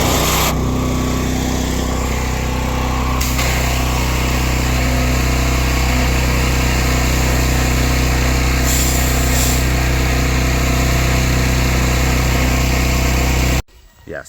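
A pressure washer pump runs steadily and loudly, a constant motor drone with a high whine on top, and then cuts out abruptly at the end once it reaches pressure.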